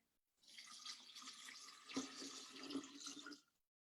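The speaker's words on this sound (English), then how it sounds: "And I'm going to put in my water." Water pours steadily into a jar for making a coconut sugar syrup, a continuous close splashing stream lasting about three seconds with a couple of brighter gurgles, then stopping.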